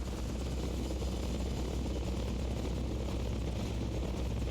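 A steady, continuous low rotor-and-engine drone of a Hind D helicopter from Metal Gear Solid: Peace Walker hums throughout, dense and unbroken with no other sounds on top.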